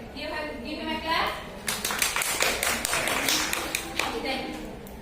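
Pupils in a classroom clap for a boy who answered, a short burst of applause that follows a teacher's speech and fades as talking resumes.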